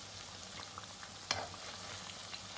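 Dahi bhalla dumplings deep frying in hot oil, a soft continuous bubbling sizzle with a low background hum and one brief sharp clink partway through.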